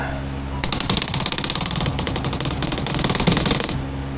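A Maruyama SPC-9 gas blowback airsoft rifle firing a long full-auto burst, a rapid, even mechanical clatter of cycling bolt and shots lasting about three seconds, close and loud, starting and stopping abruptly.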